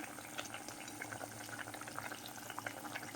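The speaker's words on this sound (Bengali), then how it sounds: "মাছ দেওয়ার পরে ঝোলটা আর একটু ফুটিয়ে নেব" Fish curry gravy with amra (hog plum) and rohu fish simmering in a pot, a steady close bubbling and sizzling hiss with soft pops throughout, no talking.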